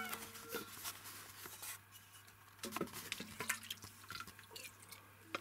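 Rice and potato soup on a fish base being poured for breakfast, with soft liquid splashing and dripping amid faint clinks and handling noises, quiet and close.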